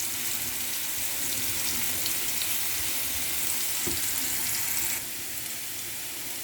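Bell pepper and garlic fry in a pan with a steady, close sizzle and faint crackling, a brief clatter near the middle, the sizzle softening slightly toward the end.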